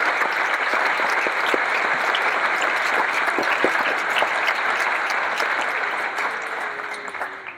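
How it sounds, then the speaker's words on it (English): Steady, sustained applause from a large crowd at the Cape Cod Canal Centennial Celebration, dense clapping continuing throughout and easing slightly near the end. "Please give a round of applause"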